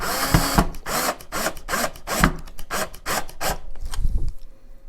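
Power drill driving screws into the body of a Jackson CBXNT DX V guitar, with repeated short whirring bursts in a quick rhythm, close and loud, ending in a final pulse and quiet.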